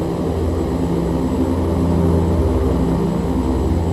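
Constant loud drone of an OV-10 Bronco's twin turboprop engines in a VR flight sim, a steady propeller hum filling the whole stretch without a break and without voices.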